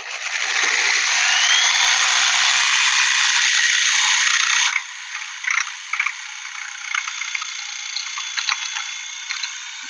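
A jigsaw buzzes loudly as it cuts wood with its base plate held down, a high, steady whine for about five seconds. Quieter rattling and clicking of the tool follow after it stops.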